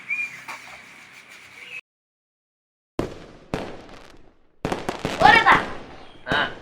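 Firecrackers set off during Diwali celebrations outdoors, heard as several sharp, loud bangs with ringing tails and crackling bursts separated by short gaps, with people's voices and a whistle-like tone at the start.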